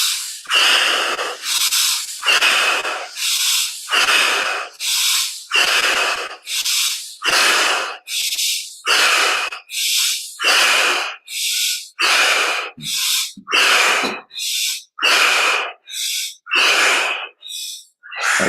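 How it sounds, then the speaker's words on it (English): Deep, forceful breaths repeat steadily through a guided breathing exercise in a healing session, each long inhale and exhale loud and close with brief gaps between, about twenty cycles with no talking. "Okay, last time, breathing deeply."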